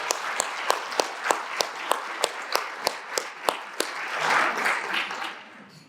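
Evenly spaced hand claps at a chamber of commerce board welcome and award event, about a dozen crisp beats in steady rhythm, followed by a brief swell of crowd murmur.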